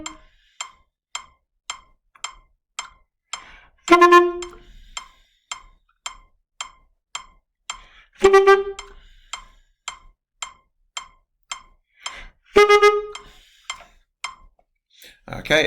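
A wind player's tonguing exercise of three quick semiquavers, repeated in three bursts over an evenly ticking metronome that clicks steadily alone between them.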